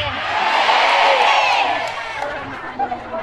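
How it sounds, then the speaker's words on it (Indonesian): Audience at an Indonesian women's Muslim religious gathering clapping and cheering, a dense, loud burst of applause and whoops that swells early and then fades, with scattered claps at the end. "Tepuk tangan dulu dong"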